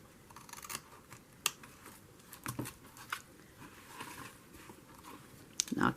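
Scissors snip in a few sharp, quiet cuts spaced over several seconds, held upside down to trim close in a crafting setting, with a small rustle of material between strokes and no talk.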